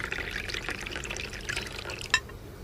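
Hot coffee pouring from a flask into a cup, a short steady liquid trickle with a brief clink near the end, heard close and quiet with no talking.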